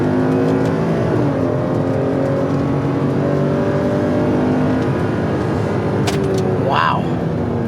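A Ford Police Explorer engine held on the foot brake and revved to about 1500 RPM, a loud, steady low drone rising sluggishly, with a brief higher whine near the end.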